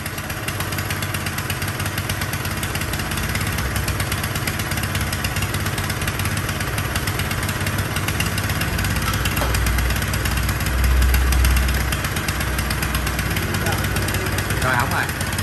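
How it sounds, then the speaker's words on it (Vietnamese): A Honda 5.5 PS engine on a mini tiller runs at a steady, loud idle with a continuous mechanical drone throughout, close to the microphone. "động cơ Honda luôn nha anh em."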